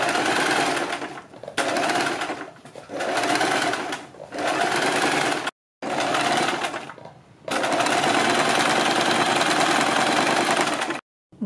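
Sewing machine stitching around a kurti neckline runs in several loud, close bursts of rapid mechanical whirring, separated by short pauses and one or two brief silences.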